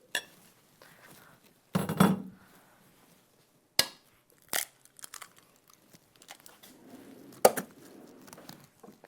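An egg is cracked against a bowl's rim in a kitchen while a gluten-free pumpkin spice cake batter is being made, giving a few sharp, isolated knocks and clinks spread across quiet gaps, close and fairly faint.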